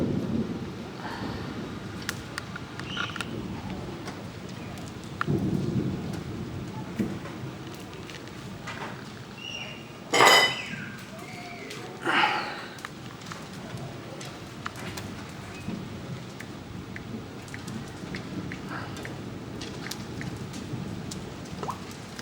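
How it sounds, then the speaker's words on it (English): Rain and thunder from a supercell storm, with a steady wash of rainfall throughout and a couple of sharp, loud thunder cracks near the middle, followed by rumbling. "Start to rain."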